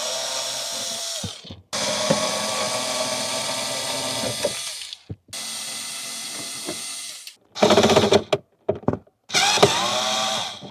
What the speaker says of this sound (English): I'm gonna attempt to remove the screws.